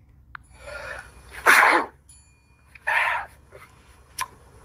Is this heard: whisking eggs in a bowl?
no